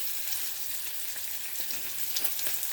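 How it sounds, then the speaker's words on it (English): Bacon sizzles steadily in a pan, a dense, even crackle of frying fat with occasional sharper pops, close up and with no talking. "so I'm making some bacon"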